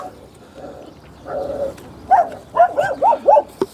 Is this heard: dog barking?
yes